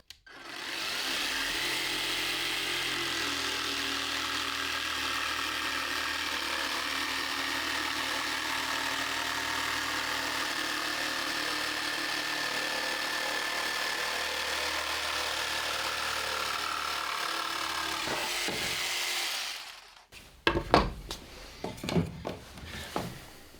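A Parkside PSTKA 12 B3 cordless jigsaw buzzes steadily for about twenty seconds cutting a wooden plank at 45 degrees, loud and close, then stops, followed by a few clattering knocks of handling.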